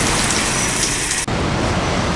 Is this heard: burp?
no